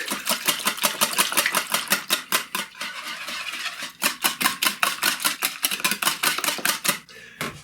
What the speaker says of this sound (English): I'm going to whisk in the 2 cups of milk.